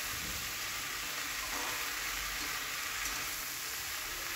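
Soft leafy greens cook down with spice paste in a pan, giving a constant low frying hiss and a few faint stirring touches, heard alone with no talk.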